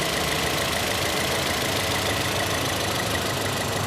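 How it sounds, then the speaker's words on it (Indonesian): A Toyota Yaris engine idles in its engine bay, a steady, even mechanical hum with a faint ticking of engine components, continuous and close throughout with no talk. "ini suara mesin dan komponen-komponen yang ada di bagian mesin Toyota Yaris seperti ini sahabat"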